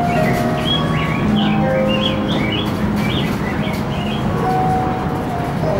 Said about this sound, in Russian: Вот как раз воздушное метро идет линия.